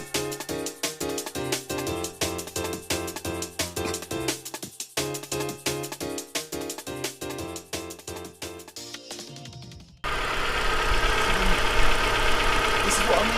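A salvage Audi A3 engine runs and idles with a rapid, regular pulsing knock, close and fairly loud, before a sudden shift to a broader, steadier rushing roar near the end.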